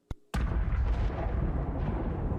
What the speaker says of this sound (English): Subterranean explosions.